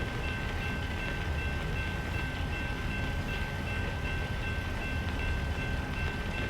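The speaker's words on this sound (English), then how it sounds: "That's about like the longest train I think I've ever seen in ATS" A very long freight train in American Truck Simulator rumbles steadily past at a crossing, a loud, unbroken rolling roar with faint clatter of wagons throughout.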